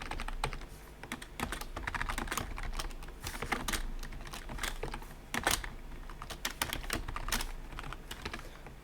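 Steady, quiet computer keyboard typing while entering code for an OpenGL game engine, with rapid irregular key clicks running continuously and nobody talking.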